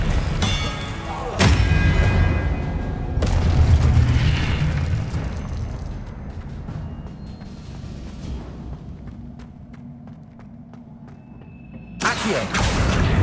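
Expelliarmus spell from the Hogwarts Legacy video game: heavy explosive booms strike at intervals, each loud and close, with a rumbling tail fading between blasts before a final burst near the end.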